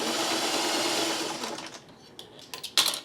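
Sewing machine running at regular speed while stitching narrow fabric strips, a steady fast whirring hum that slows and breaks up into short bursts and clicks toward the end, near and alone without talking.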